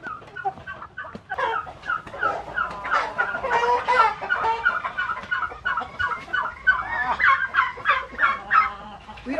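Many hens cluck together inside a large chicken breeding coop, a loud, busy run of overlapping clucks and squawks that continues steadily, with no talking.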